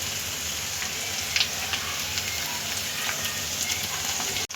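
Cabbage manchurian sauce stir-fried in a pan over a very low gas flame, giving a continuous close crackling sizzle with scattered pops and a sharp clack at the end.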